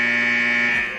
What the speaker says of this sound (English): That's a good buzzer